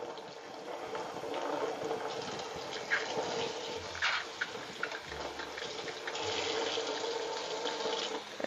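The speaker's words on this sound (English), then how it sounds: "So what I'm going to do is just wet the fiber. And I am using pretty warm water." Warm water running and splashing as raw wool fiber is wetted and rinsed of dirt, a steady close trickle with soft sloshing throughout.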